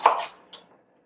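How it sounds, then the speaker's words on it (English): A kitchen knife cuts through fresh fennel on a board: two crisp, close slicing crunches, the first louder, a short pause between them. "So there's the fennel standing up, I cut it in half, lie it down, and then I slice this way"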